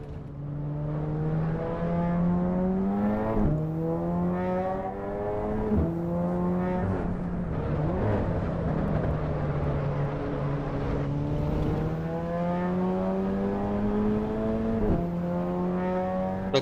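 Racing car engine in the sim racing game Assetto Corsa EVO, revving steadily with repeated upshifts and brief drops in pitch, loud and continuous with no talking.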